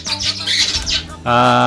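Pet birds, including a cockatiel, squawk loudly in a home aviary, with overlapping harsh calls that end in one sustained, piercing shriek.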